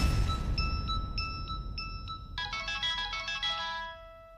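A mobile phone rings with an incoming call from an unknown number, its repeated electronic ringtone pulses running steadily and loud, then shifting into a denser melodic pattern before fading slightly.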